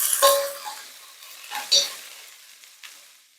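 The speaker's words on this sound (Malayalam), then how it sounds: "നമ്മൾ അരിഞ്ഞു വെച്ചിരിക്കുന്ന ചുവന്നുള്ളി, പച്ചമുളക്, സവാള നമുക്ക് ചേർക്കും." Shallots, green chillies, onion, ginger and garlic frying and being stirred in a pan, with a steady close sizzle and a few louder scraping stirs.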